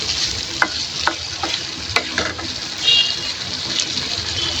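Vegetables fry in fish oil in a pan, with steady sizzling and a few sharp scrapes and knocks of a stirring utensil against the pan, close and continuous.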